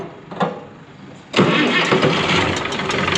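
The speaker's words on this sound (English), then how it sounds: "let's see if your tractor starts" A farm tractor cranks briefly and then catches, settling into a loud, steady running rumble up close with no talk over it.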